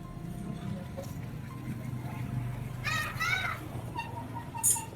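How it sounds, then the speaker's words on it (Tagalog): Children play beside a roadside, their high voices rising in short bursts midway and near the end over a steady low rumble of passing traffic. "At mga bata din naglalaro."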